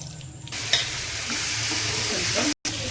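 Whole spices for tempering crackle and sizzle in hot oil for a dried red chilli and tomato chutney, a steady close frying hiss with a brief stir and a momentary break near the end.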